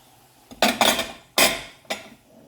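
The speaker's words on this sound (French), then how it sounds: "je vais tout mélanger, bien sûr, mes oignons" Onions and carrots stirred in a cooking pot with a utensil, giving four loud, close scraping clatters of metal against the pot in quick, uneven bursts with short pauses between them.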